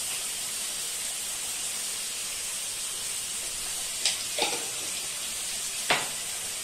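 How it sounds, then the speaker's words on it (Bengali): Spices with Kashmiri chili mix powder and turmeric sizzle steadily in a pan for prawn malai curry, a constant close frying hiss with a few brief stirring scrapes near the end. "ভাজা হোক অর্থাৎ কষানো হোক আর কি।"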